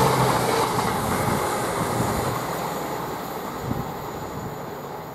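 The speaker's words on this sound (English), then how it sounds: "Now we've got CrossCountry coming through, working the 170." A CrossCountry Class 170 diesel unit runs through a railway station at Cambridge North, making a steady, loud, broad rumble that holds for the whole stretch and slowly eases off, with no voices over it.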